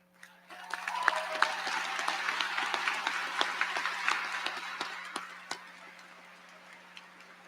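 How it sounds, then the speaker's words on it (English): Commencement audience at a high school graduation applauding cum laude honor students, a steady wash of clapping sustained for several seconds with a few sharper individual claps, then thinning out near the end; a low steady hum sits underneath. "All students earning cum laude honors, please stand now so that we may applaud your achievements."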